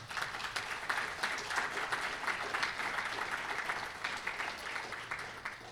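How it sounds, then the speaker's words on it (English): An audience at a British Columbia conference applauds in a steady, dense wash of clapping that holds at even strength throughout, without talk over it. "Round of applause, please."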